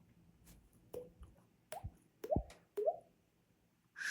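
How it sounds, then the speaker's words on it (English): Sparse water drips and plops, used as a sound effect in a spooky read-aloud children's story, land one at a time in an otherwise quiet space, about half a dozen soft, close drops spread unevenly over four seconds. "Drip, drop."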